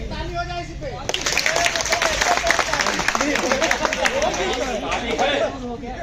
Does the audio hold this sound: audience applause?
yes